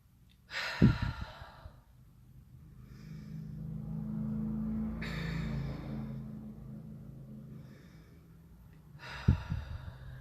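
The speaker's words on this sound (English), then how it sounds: "So I'm going to ask you to take a few breaths with me now." Slow deep breathing during a guided meditation: a sharp inhale, a long drawn-out exhale, then another inhale, close and soft with no talking.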